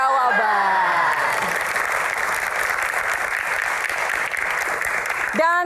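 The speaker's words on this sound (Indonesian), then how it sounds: "Tepuk tangan teman-teman." A studio audience at an Indonesian TV Q&A program claps steadily and loudly, with a voice speaking over the opening and closing moments.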